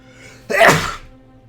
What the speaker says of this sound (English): that was a sneeze.